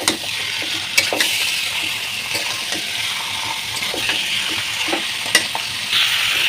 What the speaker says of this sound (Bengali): এবার এর ভিতরে খাসির মাংসগুলো দিয়ে দেবো ভালো করে এর সাথে ভাজবো